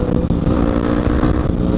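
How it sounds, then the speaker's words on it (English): A dirt bike with a new aftermarket exhaust being ridden, a loud, close, continuous engine roar with a raspy pulsing exhaust note and a brief dip near the start. "this exhaust sounds awesome"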